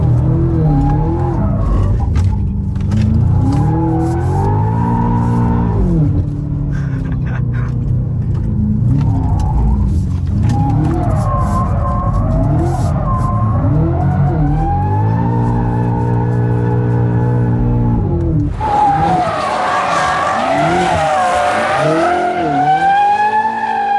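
A BMW M5 G90 on 22-inch wheels drifts along tight roads, its engine roaring loud and close with rising and falling revs while the tires squeal in long, wavering screeches.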